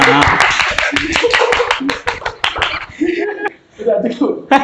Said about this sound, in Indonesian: Tepuk tangan dong semuanya